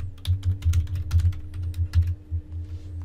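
A password is typed on a computer keyboard in a quick, uneven run of close, crisp key clicks for about three seconds, with a faint steady hum underneath and no speech.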